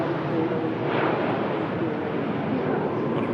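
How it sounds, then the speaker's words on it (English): Virgin Atlantic airliner powered by Rolls-Royce Trent 700 engines departing for Orlando, giving a loud, steady, broadband jet rumble and roar that holds throughout. "Super rumble from them Rolls-Royce Trent 700 engines"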